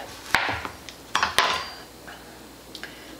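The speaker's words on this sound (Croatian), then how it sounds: "uzmite oštar nož fino se reže" A sharp knife slicing through a chocolate walnut roll on a hard board, giving a few sharp separate knocks and scrapes with quiet pauses between them.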